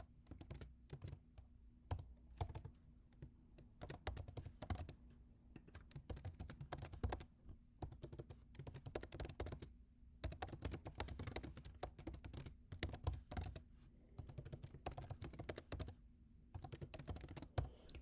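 Quick typing on a computer keyboard while writing an email: a continuous run of close, crisp key clicks in uneven bursts with brief pauses, no talking.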